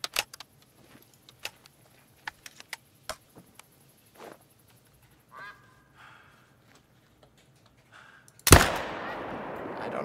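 A rifle shot rings out in the hunting game Call of the Wild, a sharp crack near the end after scattered faint clicks and soft calls, followed by a loud rumbling echo.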